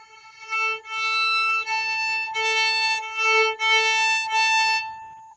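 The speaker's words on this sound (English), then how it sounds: "you're going to get this fragile sound that does not sound good." Thin, wispy bowed fiddle tone from bowing too lightly, several light strokes on a sustained pitch, close and fairly quiet, sounding fragile and unsteady.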